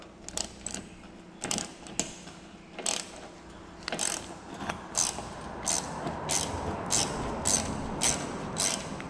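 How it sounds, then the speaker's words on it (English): A 7 mm ratchet clicks as it loosens thin, uncoated cover fasteners under a 2018 Ford Edge during an oil change, with bursts of quick close ratcheting that grow into a rapid regular clicking run with faint mechanical background noise. "So you need a 7 millimeter to take down this cover."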